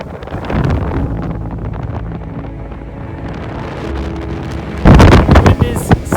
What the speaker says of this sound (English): The wind is somewhat pumping, so we can't really even get close to the edge to take photographs. It's gale force out here.